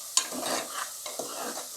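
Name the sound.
onions and green chillies being sautéed and stirred in pan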